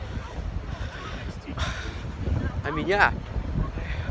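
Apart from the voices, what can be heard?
wind at Pismo Beach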